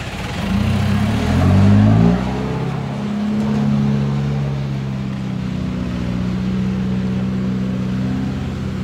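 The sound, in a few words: SANY SY215C excavator engine revving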